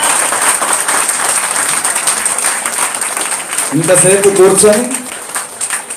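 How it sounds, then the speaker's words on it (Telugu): Sustained applause from an audience at a Sita Rama Kalyanam temple ceremony at the VHP Temple in Ilford, London, loud and steady throughout, with someone speaking over the clapping toward the end. "ఇప్పుడు చక్కగా చప్పట్లు కొట్టుకోవచ్చు"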